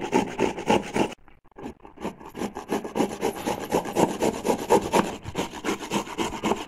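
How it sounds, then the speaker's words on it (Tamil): Fresh amla (Indian gooseberries) rubbed against a hand ginger grater, giving a steady run of close, rasping scrapes in quick rhythmic strokes, with a brief pause early on. "நாங்கள் இஞ்சி துருவுறதில் இப்படி துருவி எடுத்துக்கலாம்."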